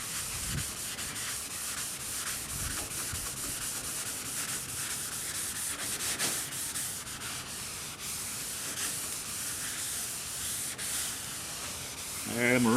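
Scrubbing with Dawn dish soap and water gives a steady, close, rough rubbing and swishing that runs continuously, with brief louder strokes and a final surge at the end.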